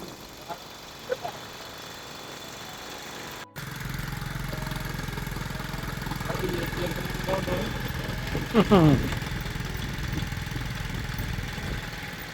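A motorcycle engine rumbles steadily after a sudden start in Laos, with faint voices and brief sharp sounds in the background.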